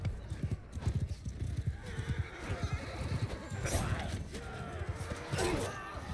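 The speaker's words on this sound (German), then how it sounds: "Oh, die ganzen Pferde!" Massed cavalry charges in a Mount & Blade 2 battle, with a rapid, dense drumming of hooves throughout and occasional whinnies, mixed with battle noise and people talking over it.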